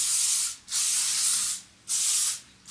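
Heat protectant hairspray from a hair styling kit sprays onto hair in three bursts, each a loud, close airy hiss lasting about a second with short gaps between, and no talking.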